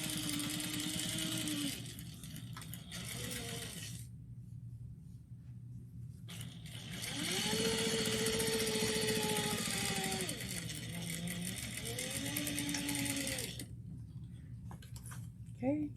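A sewing machine back stitching the end of a fabric baby sling, its motor running in steady whirring bursts with pitch rising and falling as it reverses direction, near and fairly loud, with brief pauses between runs.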